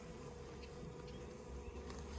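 Honey bees hum around two healthy backyard beehives, a faint, steady, continuous drone with no talking.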